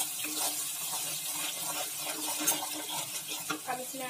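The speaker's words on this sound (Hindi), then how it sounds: "हाई फ्लेम पर आपको इसे अपने चला चला कर भून कर लेना है" Ginger garlic paste is stir-fried over a high flame for matar paneer, giving a soft, steady sizzle with spoon scrapes, fairly quiet and close, with no talking.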